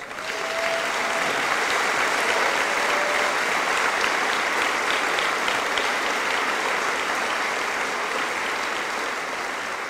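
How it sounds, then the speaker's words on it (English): Long, steady round of applause from a large audience at a high school graduation ceremony in a hall, a thick continuous wash of clapping that holds for about ten seconds, with a faint tone briefly audible early on. "And please give them a round of applause."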